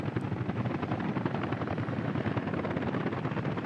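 A helicopter in the city-building game Workers & Resources gives a steady, loud rotor thrum and whine that holds for a few seconds with no voices over it.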